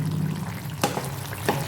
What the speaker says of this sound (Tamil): நல்லா கொதிக்க ஆரம்பிக்குது.